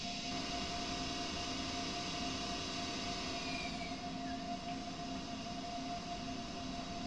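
An IC intercity train in the Train Sim World simulator pulls away from Berlin after its brakes are released, a steady low rumble and motor hum with a faint whine, continuous and even, without voices.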